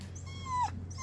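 A dog named Shasta, playing outside, lets out one short high whimper that rises and then drops, close by and alone against a faint background hum.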